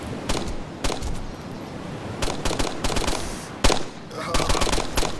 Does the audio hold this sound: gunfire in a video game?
yes